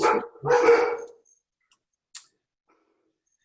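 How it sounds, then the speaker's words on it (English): A stressed dog barks twice in quick succession at close range, harsh and loud, then falls silent apart from a faint click a second later. "That was a dog that did not come from my room."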